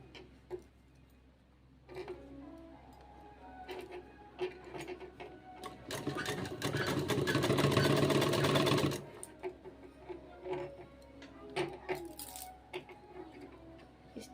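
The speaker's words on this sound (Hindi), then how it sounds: "पूरे गले में सिलाई लगा लेनी है।" A sewing machine stitches around the neckline of a suit in one loud, rapid run of about three seconds, set between quieter stretches of clicks and handling noises.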